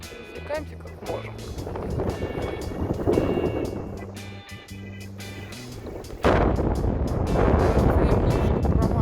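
Strong wind aboard a sailing yacht among the Greek islands gives a gusty, buffeting roar that grows much louder and denser in the last few seconds, over a low tonal hum and muffled voices.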